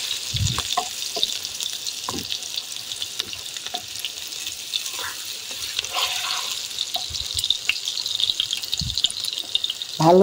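Meat and masoor dal pakoras sizzle in hot oil with a dense, steady crackle, while occasional knocks and scraping strokes mark the fritters being flipped in the pan, heard close up without talk.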